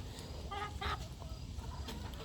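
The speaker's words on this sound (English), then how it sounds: "this bird right here, this chicken, it's called a black diamond" A black diamond chicken clucking in a farmyard, a few short close clucks and a brief squawk over a steady low background hum, with no talk.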